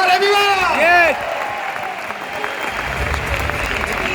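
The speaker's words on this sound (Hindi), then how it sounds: "एक बार जोरदार तालियां" At a Vestige event, a crowd claps loudly. Whoops and wavering vocal tones ring out over the opening second, then settle into steady, dense applause.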